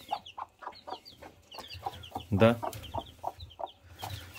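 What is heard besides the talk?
chicks cheeping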